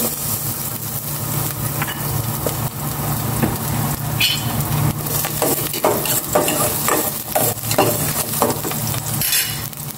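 Chopped garlic hisses and sizzles in hot oil in a pan while a utensil scrapes and stirs it, giving a steady crackling fry broken by intermittent clinks and scrapes.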